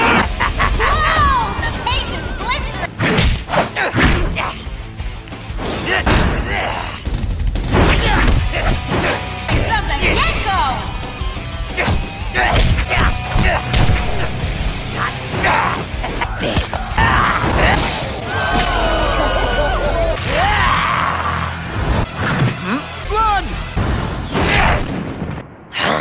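Weapons fire as a loud sound effect in an animated scene: repeated heavy booms and crashing bursts over a constant layer of crowd babble and talking voices.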